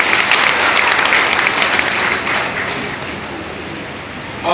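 An audience claps to welcome Narendra Modi at a BJP workers' gratitude conference in Rajnandgaon, Chhattisgarh. The applause is dense and sustained, eases a little midway, then swells again at the very end.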